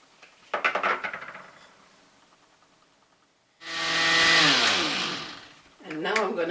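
A kitchen blender whirs loudly for about two seconds, churning Jamaican stout punch with cinnamon, nutmeg, a beaten egg and ice cubes. It starts abruptly, winds down, and a voice speaks before and after it.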